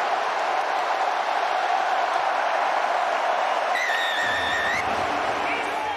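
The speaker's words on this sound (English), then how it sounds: "Still such a vocal crowd here in the ancient city of Marseille" A vocal rugby crowd fills a stadium in Marseille during a Rugby World Cup 2023 match, a dense, steady roar of cheering and babble with a brief whistle-like tone rising above it.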